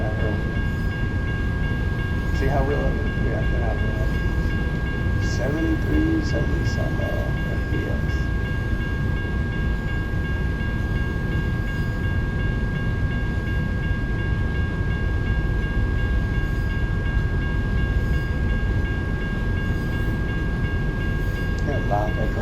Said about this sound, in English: How loud that train is.